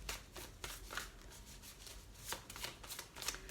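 Oracle cards being shuffled before a five-card draw in a quiet room, a steady run of soft riffling and papery flutters with brief louder snaps of card edges throughout.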